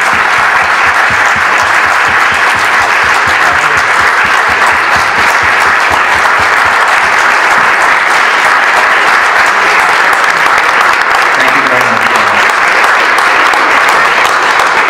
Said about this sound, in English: I would like to applaud for this gentleman who has done so much for Saratoga and racing right now. Mike, congratulations.